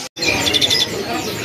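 Caged songbirds at a bird kiosk chirp in quick, high, bright bursts over a busy background, close and clear after a brief silence at the start, with no talking.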